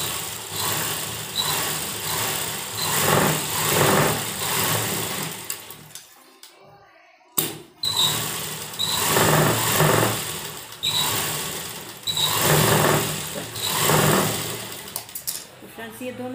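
A sewing machine runs in several long bursts of steady stitching, with a brief pause midway, while seams are sewn on a sleeveless blouse. A voice talks intermittently over the machine.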